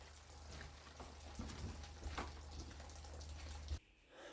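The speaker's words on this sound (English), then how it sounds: "it's a pretty rainy day out here" On a rainy day in Washington, steady rain falls outside as a faint, continuous patter with a low hum beneath it, cutting off abruptly near the end.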